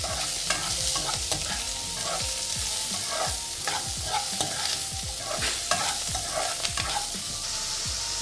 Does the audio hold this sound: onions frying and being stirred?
yes